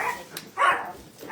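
A dog barking, a few drawn-out, howl-like barks or yelps, fairly loud and close, separated by short pauses.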